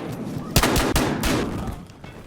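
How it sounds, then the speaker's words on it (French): Shotgun blasts from the video game Battlefield Hardline ring out in a quick series of three loud, booming shots over a dense background of in-game noise. "il y en a un qui attend au fusil à pompe"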